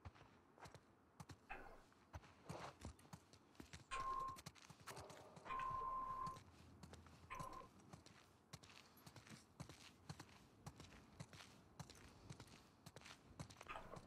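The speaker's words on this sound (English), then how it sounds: "Let's get back to the horses." Horse hooves clip-clop at a walking pace in The Last of Us Part II, a steady near rhythm of soft thuds running throughout with faint ambient game sound around them.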